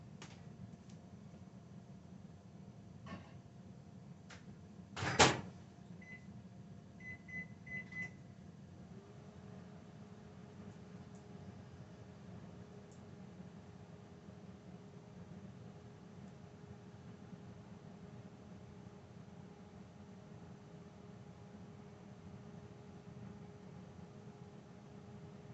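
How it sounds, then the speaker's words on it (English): A microwave oven hums steadily as it heats butterscotch fudge, with a loud clunk and a few beeps early on, then a quiet, even drone for the rest of the run. "Let's get it in the microwave."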